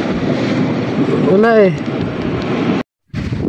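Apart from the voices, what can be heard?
strong wind at the sea on Fortune Island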